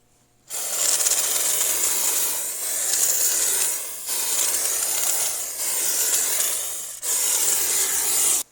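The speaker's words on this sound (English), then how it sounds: "So here's an idea of how this sprayer works." Fluid Film rust-proofing sprayer blasting onto an interior body panel of a Honda CRX Si Special Edition under restoration, a loud steady hiss in four sustained bursts separated by brief pauses, close and without talk.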